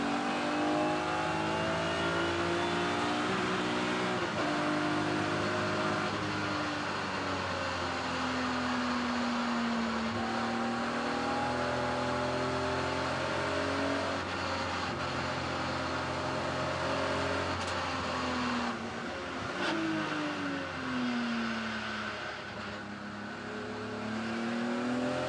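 Thunder Saloons race cars run at Silverstone on a wet, cold track. A loud close engine drones and revs through rising and falling gear changes, and another car's engine sounds alongside.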